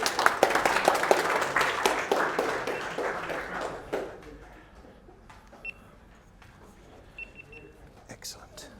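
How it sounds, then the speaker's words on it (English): A seminar audience at a speed-reading meetup claps loudly for about four seconds. The applause then dies away into scattered faint taps and low murmuring. "Give yourselves a round of applause."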